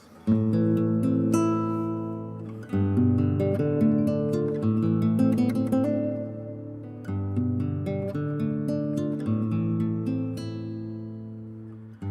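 Strummed acoustic guitar playing a song at a jam happy hour, steady and full with a brief pause near the middle, alone without any talking.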